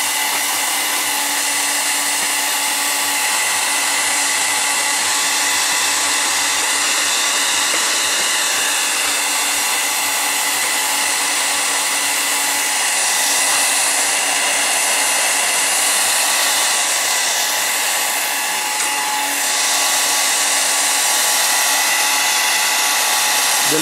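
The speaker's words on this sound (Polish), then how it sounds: "mam coś takiego tutaj jak odkurzacz, no to przedłużkę się do niego wkładam, na baterie litowo-jonowe" A battery-powered lithium-ion vacuum cleaner with an extension attachment runs continuously and loudly at close range. It gives a steady high-pitched motor whine that holds unchanged throughout.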